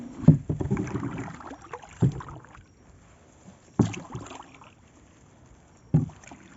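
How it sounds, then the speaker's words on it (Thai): A boat moves through floodwater in a flooded Thai village, with soft water swishing and trickling and a few sharp knocks of paddle or hull at irregular intervals, close and fairly quiet. "ตอนนี้ก็เดินทางทางเรือ"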